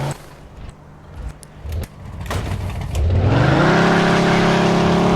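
A car in Mafia II drives along, with a few scattered thumps and knocks, before its engine revs up loud and steady, the pitch climbing and holding in a sustained roar.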